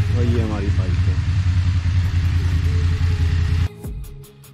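A BMW Motorrad motorcycle idles steadily and close by with a low, throbbing engine rumble, while a voice speaks over it; the engine then cuts off abruptly near the end, leaving a few faint ticks.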